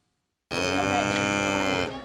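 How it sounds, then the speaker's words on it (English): A single long, loud moo from cattle brought in for a street cattle drive event on a closed-off block in Aggieville, Manhattan, rising suddenly after silence and holding steady for over a second. "Cattle were brought in for the first ever Aggieville Showdown on Saturday evening"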